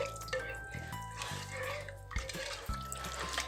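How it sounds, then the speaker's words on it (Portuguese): Roughly 600 ml of water poured into a soup pot for cornmeal soup with kale and calabresa sausage, a short liquid splash and trickle with dripping sounds and some low background noise. "Coloquei aqui mais ou menos umas 600 ml de água."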